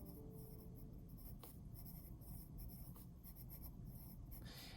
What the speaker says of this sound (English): So at the top, I'm going to write brain pop notes.